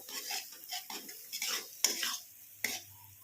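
Spices for dum aloo roasting in oil while a spoon stirs them, giving soft scraping strokes and a few sharp clinks against the pan over a faint sizzle; no talking.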